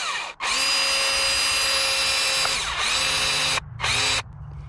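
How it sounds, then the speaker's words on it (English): A power drill whines loudly and steadily for a few seconds while drilling into a broken oil cap, drops briefly, revs again, then cuts out with a short final burst. "I'm just going to drill down till it reaches the tape"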